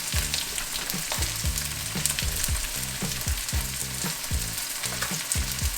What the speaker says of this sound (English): We're gonna start off with our onion. Woo! We're going to start off with our garlic as well. Get your garlic going in there.